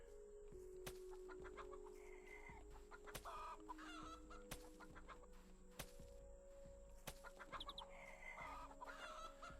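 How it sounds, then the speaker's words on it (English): Chickens cluck and chatter in the farm game Garden Paws, several birds calling in quick irregular bursts over a faint steady background, with sharp clicks interspersed. "I mean, obviously chicken sounds"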